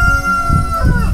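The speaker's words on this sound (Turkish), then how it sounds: "Tavuklar da buralarda dolaşıyor." Chickens wandering a village street in Bulgaria, with a rooster-like crow and clucking heard close by over a steady outdoor background, brief and fairly loud.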